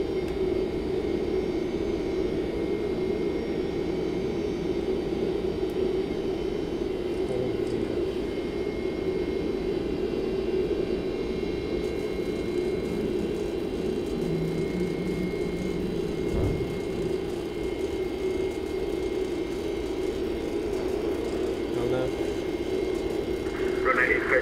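Simulated Boeing 767-300 freighter jet engines in the X-Plane 11 flight simulator drone steadily during the climb after takeoff. The sound is a constant, even hum with pilot voices talking over it.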